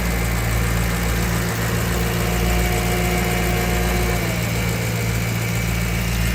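A Ferrari engine idles steadily with a deep low rumble and constant hum, close by, with no voices.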